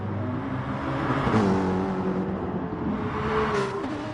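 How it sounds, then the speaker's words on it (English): A V8 race car in a PlayStation 4 racing game revs and shifts gears, its engine tone climbing and dropping through a quick upshift, moderately loud and alone without any talk. "Just listen to that V8 shift gears."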